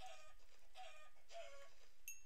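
A video game chicken clucks in three short, bright bursts about half a second apart, close and clear over a quiet background, followed by a brief higher squawk near the end.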